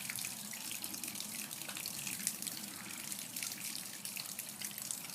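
Heavy rain pouring during a thunderstorm in Phoenix, Arizona, a dense steady hiss of falling water and splashing, close and even throughout with no talk.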